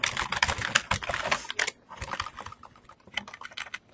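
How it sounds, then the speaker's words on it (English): Heavy-handed typing on a computer keyboard in an office setting, a dense, loud clatter of keystrokes that thins into scattered taps, heard alone without talk. "Is that you typing away there, Derek?"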